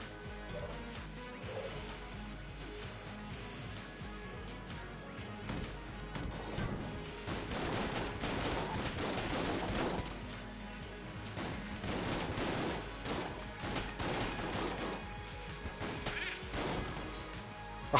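Rapid gunfire with electric bullets in the Enter the Gungeon video game, a dense barrage of quiet clattering shots and crashes that grows busier in the middle of the stretch.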